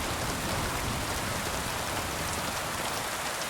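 Steady, dense rain pours down in Kingdom Come: Deliverance II, a continuous even hiss of drops on surfaces with no voices over it.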